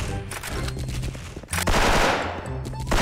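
M4A1 rifle fire in the shooter game Special Force, rapid bursts of close, loud automatic shots in quick succession with a brief pause midway before the firing resumes.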